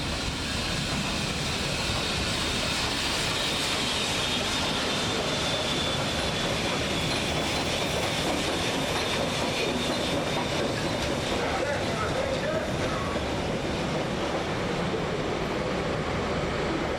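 An excursion train rolls steadily into Palmerston North, a continuous broad rumble of wheels and carriages with faint rhythmic clatter and a thin high squeal, heard fairly close throughout.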